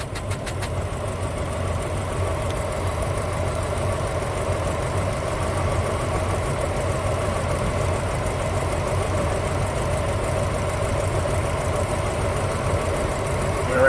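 An engine runs steadily throughout a running compression test, with a fault in cylinder number four, giving a continuous low idle-like hum with faint knocking, close and fairly loud, with some voice in the background.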